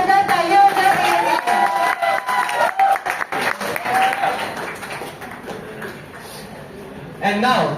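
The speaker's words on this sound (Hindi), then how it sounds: "तो इसलिए एक बार और जोरदार तालियां हो जाती है।" A loud burst of audience applause at a live performance evening, crowd clapping mixed with talking voices and shuffling, fading and thinning toward the end before a brief swell.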